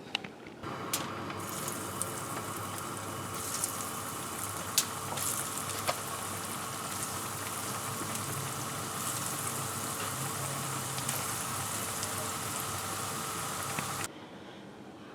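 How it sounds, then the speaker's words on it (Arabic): Falafel (ta'meya) frying in hot oil gives a steady, even sizzle that holds for about fourteen seconds with a few faint clicks, then cuts off abruptly. "تعالوا بقى عشان نحمر الطعميه"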